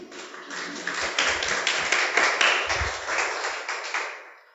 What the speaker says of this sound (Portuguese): Vocês podem aplaudir o Senhor Jesus?